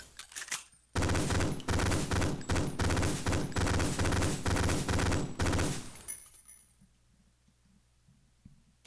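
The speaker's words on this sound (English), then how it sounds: "You can burst fire pretty accurately." Burst fire from a weapon in the retro shooter video game Ion Fury, with loud rapid rounds in tight repeated volleys for about five seconds before fading into a low room tone.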